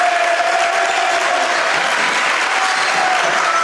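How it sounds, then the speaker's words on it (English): A crowd at a boys' varsity high school basketball game in a gym, Triton against Stewartville, cheers and applauds loudly and steadily, with a dense wash of clapping and shouting. "the crowd's getting a little loud in here"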